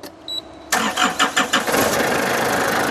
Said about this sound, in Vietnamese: tôi sẽ để máy để cho các bạn nghe cái tiếng động cơ nhé